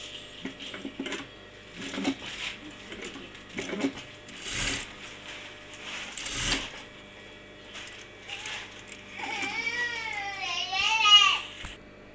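Sewing machine stitching a face mask lining runs in short, whirring bursts separated by pauses, loud and close, with a high, wavering voice rising near the end.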